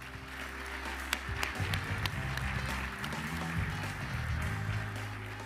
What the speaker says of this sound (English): Please join us in giving all the deans another round of applause.